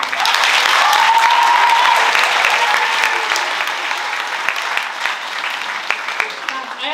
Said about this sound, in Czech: takže prosím velký potlesk pro ně